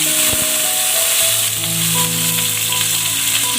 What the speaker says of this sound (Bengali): পেঁয়াজগুলো আমার ভাজতে থাক